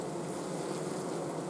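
A honeybee colony hums steadily as the bees beat their wings without pause, a dense, even buzz that fills the space close up with no voices.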